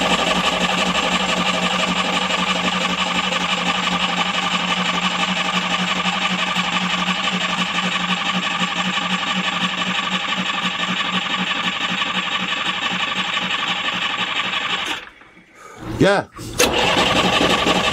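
A sailboat's inboard engine runs at a loud, steady, throbbing idle for most of the stretch, then cuts out and briefly catches again, with a voice speaking over it.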